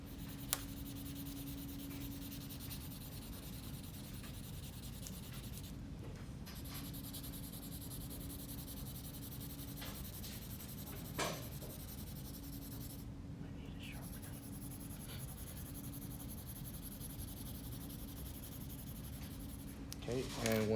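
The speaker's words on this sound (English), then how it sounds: "you take a pencil and you're gonna apply pressure as well as you go over it in a shading fashion" A pencil rubbed back and forth under pressure, shading over paper to transfer a drawing, a soft continuous scratching that lasts throughout, close and quiet with a few small taps.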